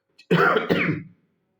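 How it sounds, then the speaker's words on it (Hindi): A single harsh cough or throat clear, close and loud, lasting under a second in otherwise quiet surroundings. "थोड़ी सी खांसी की समस्या है"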